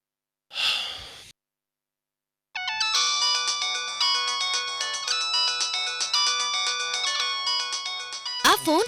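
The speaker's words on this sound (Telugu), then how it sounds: "ఆ ఫోన్ చూడండి." A phone ringtone plays a bright repeating electronic melody for several seconds after a short breathy gasp and a pause, with another sharp sound cutting in at the end.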